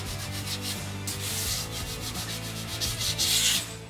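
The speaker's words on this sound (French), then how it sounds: "petit coup d'abrasif, tu le montes sur une ponceuse, granulométrie 150 sans pression" A power sander with 150 grit abrasive is run lightly over dried plaster filler, giving a continuous close rubbing hiss with a low motor hum under it and surges of rasping grit.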